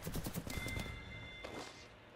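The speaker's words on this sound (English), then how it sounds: "Are you getting shot at?" Video game gunfire, a quick burst of rapid shots close by that settles into a fainter, scattered exchange, with no talking.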